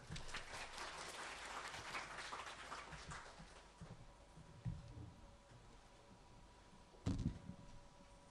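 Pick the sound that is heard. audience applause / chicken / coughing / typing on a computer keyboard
audience applause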